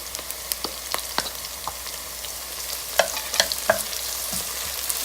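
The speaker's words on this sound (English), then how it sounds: "Next up, we have ginger and garlic. So we are going to add that in." Ginger and garlic sizzle and fry in a pan while being stirred, with bright crackling spatter and a few sharper scrapes and pops, close and fairly loud, with no talk.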